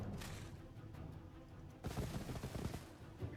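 Cannon volleys in the strategy video game Age of Wonders III, a dense cluster of booming shots that bursts louder partway through, with rapid overlapping blasts rather than single isolated reports.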